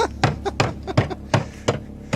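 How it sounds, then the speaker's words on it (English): Repeated hammer blows strike a PVC piece in a home repair job, about six sharp close impacts in an uneven rhythm with brief pauses between strikes. "just use a bigger hammer"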